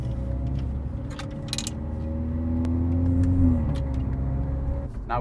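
A small car with a freshly rebuilt engine, performance mods and a pedal shift cruises on the road for its first test drive; a steady engine drone and tyre rumble swell slightly, then ease off, with no voices.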